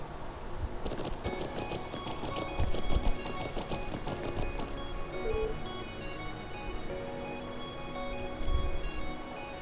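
Horse hooves clip-clop steadily during a ride along a highway in the video game Trails of Cold Steel, a rhythmic trotting patter over game music and ambience, with no talking.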